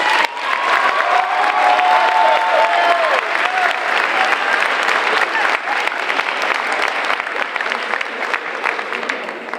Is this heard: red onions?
no